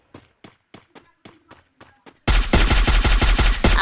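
Free Fire AK47 gunfire: a string of evenly spaced single shots, then a loud sustained rapid burst close up.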